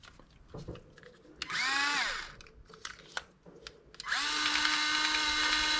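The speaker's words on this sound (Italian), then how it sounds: "questo è un mandrino per l'avvitatore che ho trovato alla fiera" A cordless screwdriver whirs up twice, its chuck spinning, first in a short spin that winds down, then a longer steady run, with small clicks and handling noises between, while working on a Kyosho MP9 TKI4 rear axle.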